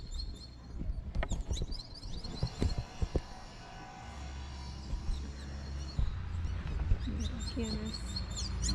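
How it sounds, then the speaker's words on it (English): Birds chirping and twittering in the town of San Felix, Colombia, bright repeated calls mixed with outdoor clatter and people talking nearby. "I love all these birds though."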